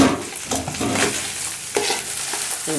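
A spoon scrapes and stirs through rice ingredients sizzling in a hot pan, in several close, uneven strokes over continuous frying.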